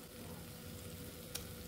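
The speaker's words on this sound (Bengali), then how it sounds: "এবার সবগুলো একসাথে ফ্রাই করে নিচ্ছি।" Bay leaves and grated coconut fry together in a pan over low flame, giving a steady, even sizzle throughout with one brief sharp tick near the end.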